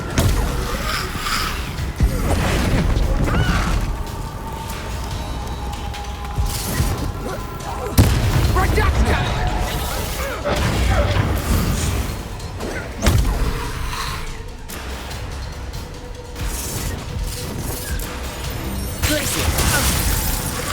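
Spell blasts go off during a combat scene in the video game Hogwarts Legacy, a series of heavy booms, crashes and thuds spaced several seconds apart over a rumbling backdrop, mixed with characters' voices.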